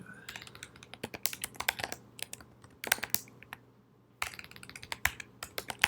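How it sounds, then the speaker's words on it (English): Fast typing clatters on a sticky computer keyboard up close, with dense irregular key clicks broken by a couple of brief pauses. "Keyboard is sticky."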